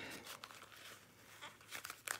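Fabric crinkles and rustles as a small 4x4 in-the-hoop embroidered zip bag is worked right side out by hand, soft irregular crumpling with a few sharper crackles near the end and no voices.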